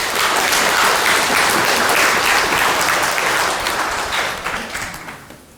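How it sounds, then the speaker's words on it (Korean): A lecture hall audience breaks into loud, dense applause that holds steady for several seconds and then thins out and fades toward the end. "여러분이 큰 박수로 응대해 주기 때문에"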